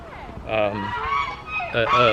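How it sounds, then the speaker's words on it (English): Geese honk repeatedly up close, loud nasal calls overlapping in short bursts. "that'll keep the geese away"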